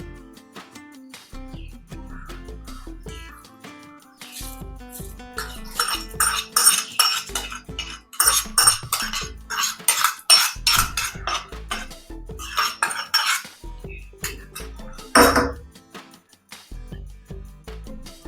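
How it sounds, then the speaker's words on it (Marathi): A spoon clatters and scrapes against a steel vessel as crisp curry-leaf tempering is poured into rice and the curd rice is mixed, with irregular close clinks and short pauses. "तर आपण हे जी फोडणी आहे ती भातामध्ये ओतून घेऊया."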